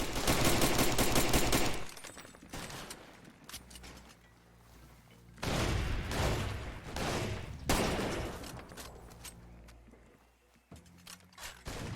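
Enemies fire through a wall in the video game Far Cry 2: loud, dense bursts of rapid gunfire arrive in several volleys lasting a second or two each, with quieter gaps between them.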